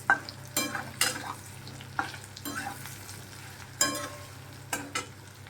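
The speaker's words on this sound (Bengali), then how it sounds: "পেস্টটাকেও আমি অ্যাড করে দিয়েছি এবার একটু মশলাটাকে কষে নেব" Potatoes sauté in a pan with cumin, turmeric, chili powder and a spice paste, a low sizzle under intermittent scraping strokes of a spoon, close and fairly quiet, with no voices.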